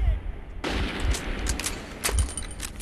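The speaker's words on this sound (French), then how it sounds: "ça tire de là-haut" Gunfire raining down from above in the video game Metro 2033, a dense, continuous burst of rapid shots and booms that fills the whole stretch, loud and close, with a player's voice faintly under it.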